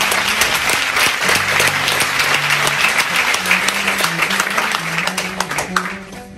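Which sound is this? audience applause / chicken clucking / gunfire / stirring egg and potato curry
audience applause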